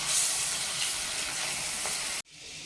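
Cubes of paneer fry in hot oil with a loud, continuous sizzling hiss that cuts off abruptly, leaving a quieter background.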